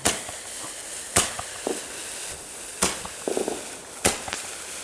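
Fireworks from a Slovak pyrotechnics set go off in a garden as three sharp, loud bangs spaced over a few seconds, each trailed by smaller crackles and pops.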